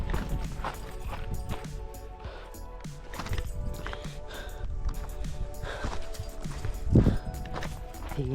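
Horse hooves clop over a rocky path at a cave site in Saudi Arabia, a steady uneven walking rhythm close by, mixed with snorts, shuffling and ambient outdoor noise.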